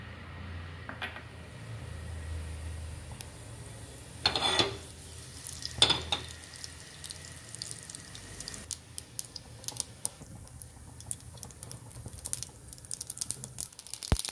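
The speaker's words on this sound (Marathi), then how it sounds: "जिरे मोहरी तडतडली तर आपण कारले टाकूया" Cumin and mustard seeds crackle and pop in a little hot oil before bitter gourd goes in, a close, dense, irregular spluttering with a few sharper clinks from a pan or spoon.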